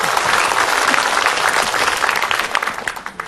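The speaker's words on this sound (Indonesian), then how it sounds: "Tepuk tangan buat Ustaz Abdul Somad." Dense, loud applause from a studio audience at a televised dawn religious lecture, a steady wash of many hands clapping at once that thins slightly near the end.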